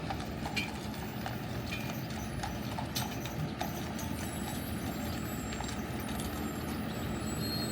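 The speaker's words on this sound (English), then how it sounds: "the horses there have to stop for the stop sign just like everyone else" Horses clip-clopping steadily on a street in a Wild West tourist town, hooves tapping in a continuous rhythm at close to moderate distance, with faint engine hum in the background.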